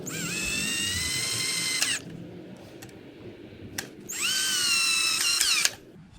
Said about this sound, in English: I wouldn't go mad on powering the screws down into it